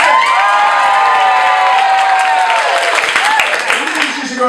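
Loud cheering, whooping and clapping from a comedy show's studio audience voting for a date, a dense crowd roar with high shouts and hands clapping throughout.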